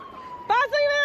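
A short police siren sound alert whoops in with rising and falling tones over a quiet room, loud and close for about half a second, with conversation nearby.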